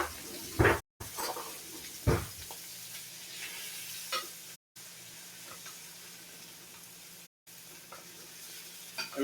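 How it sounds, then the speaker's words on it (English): Butter sizzles in a hot pan as it is spooned over to baste, a steady frying hiss with a few clinks of the spoon near the start. "And now we add our butter."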